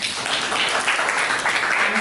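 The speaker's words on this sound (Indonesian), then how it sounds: "Oke, tepuk tangan buat Aisyah." A school class applauds for a student, many small hands clapping in a dense, even patter that stays fairly loud and constant for about two seconds.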